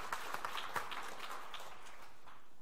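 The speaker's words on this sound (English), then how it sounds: "so please, can you applaud to Teresa?" An audience at a security forum gives a round of applause for an organizer's wife, light scattered clapping at moderate distance that thins and fades toward the end.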